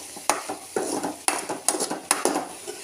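A spoon scrapes and stirs a jackfruit seed stir-fry in a pan, sizzling in oil, with repeated close scraping strokes and soft clanks against the pan's sides.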